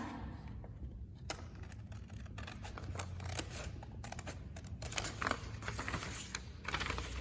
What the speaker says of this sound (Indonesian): Oke, aku gunting yang ini dulu ya.